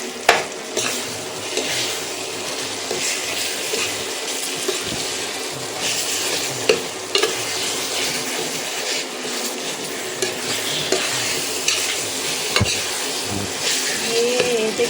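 Ground stinging nettle (bichhu ghas) sizzles steadily in a hot pan while it is stirred, with occasional scraping knocks of the spoon against the pan over the constant frying hiss.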